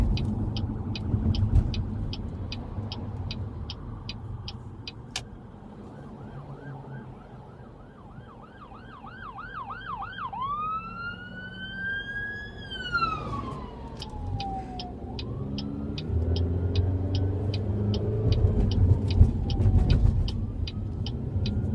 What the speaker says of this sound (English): I was waiting for an ambulance to drive by